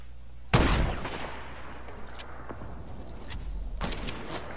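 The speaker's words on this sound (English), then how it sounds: "I'm just getting shot from a different team" Fortnite gunfire opens with a sharp, loud close shot, followed by scattered fainter distant shots and a quick late burst over a low game rumble.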